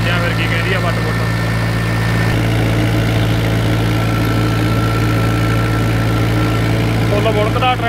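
A tractor engine pulling a potato fertilizer machine runs at full power, a loud, steady, heavy drone with a constant low rumble throughout.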